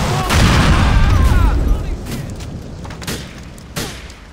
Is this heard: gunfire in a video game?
yes